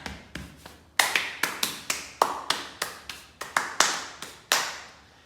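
Tapping and scraping on a small object, a quick series of about fifteen sharp, close hits with short decaying scrapes between them, steady and alone with no talking.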